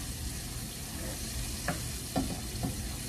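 Vegetables are stirred in a frying pan, giving a soft steady sizzle with a few distinct scrapes of a utensil against the pan near the end, quiet and close with no talking.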